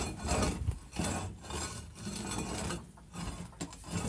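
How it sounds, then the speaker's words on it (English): A garden hoe scrapes the floor of a chicken coop in a series of rough, rasping strokes, each one close and fairly quiet, with brief pauses between them and no talking. "And I literally just scrape."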